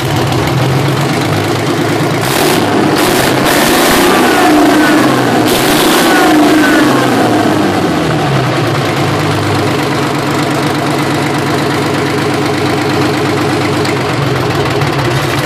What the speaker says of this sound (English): this thing should start right back up and idle.